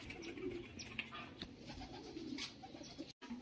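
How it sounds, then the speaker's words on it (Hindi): Caged pigeons in a residential colony coo softly and repeatedly, with scattered faint chirps, against quiet background noise. "यहाँ पे भी माशाल्लाह कबूतरों से भरे हुए।"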